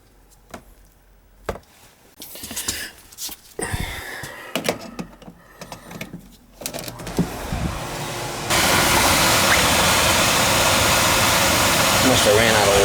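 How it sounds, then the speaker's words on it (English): An oil boiler pump motor on a leaking boiler with no hot water. Someone talks over handling clatter, then the motor switches on and runs with a steady, loud, close hum to the end. "I'll just plug in my lead over there and then the motor will run."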